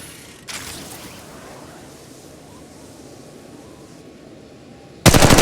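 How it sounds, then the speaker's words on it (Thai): Gunfire in the mobile game Apex Legends Mobile begins as a faint hiss of game ambience, then a loud, dense burst of rapid automatic fire erupts abruptly at the very end. "ฉันถูกพบแล้วกำลังโดนยิง"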